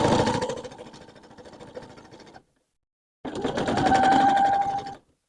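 A sewing machine stitches a line across a quilted fabric postcard, a steady buzzing whir that runs for a couple of seconds, stops briefly, then starts again for a second loud stretch.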